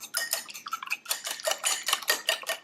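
An egg and milk egg wash being whisked in a bowl, with rapid rhythmic clinking and scraping of a utensil against the bowl in quick bursts, close and fairly loud.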